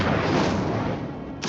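A fire spell cast in the Hogwarts Legacy video game gives a loud, sustained roaring burst of flame that fades slightly and ends with a short bright crackle.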